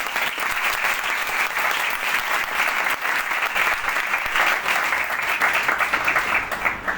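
Loud, dense applause from a church congregation during a pastor's sermon and worship service in Chaklala, a steady wash of many hands clapping throughout with no voices standing out.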